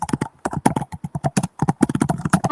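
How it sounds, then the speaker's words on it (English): A computer keyboard is typed on during an online call, with rapid, distinct clacking keystrokes in uneven bursts and short gaps, close and fairly loud. "here's someone typing in the background"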